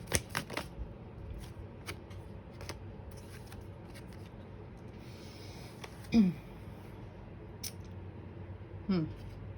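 Tarot cards shuffled for a follow-up draw, soft papery riffles and flicks in short clusters, quiet and close, with a few louder snaps and brief vocal sounds between.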